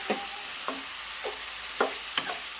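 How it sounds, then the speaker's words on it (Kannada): Tomatoes fry in a pan with a soft, continuous sizzle, punctuated by several short scraping stirs of a spatula at a steady pace. "ಈಗ ಟೊಮೆಟೊ ಹಣ್ಣು ಫ್ರೈ ಆಗಬೇಕು"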